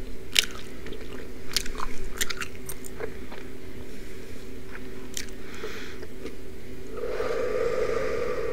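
Close, intense gum chewing with wet smacks, crunchy bites and squishy clicks in irregular bursts, followed by a steadier whirring hum toward the end, no speech.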